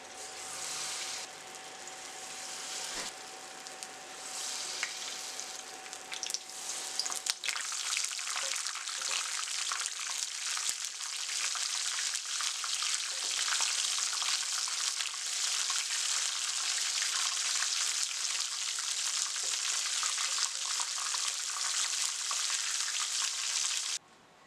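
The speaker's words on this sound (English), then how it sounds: "Now let's go ahead and fry the shrimp." Shrimp fry in hot oil for Baja-style fish tacos, first with a quieter sizzle and a faint hum, then a loud, dense, steady crackling sizzle that runs unbroken for about twenty seconds before cutting off, heard close with no talk.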